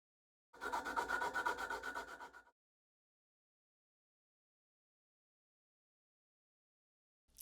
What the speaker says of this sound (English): I will sand them down so that the edges get a cleaner definition